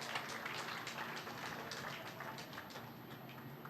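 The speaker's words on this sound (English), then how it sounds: "Let's give him a warm applause, ladies and gentlemen." Audience applause for a guest speaker at a police flag-raising and awards ceremony, a dense, even wash of many hands clapping at a moderate distance, steady throughout.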